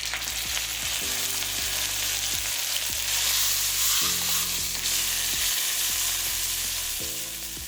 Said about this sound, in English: Add oil and sear all sides of the seasoned beef until golden brown.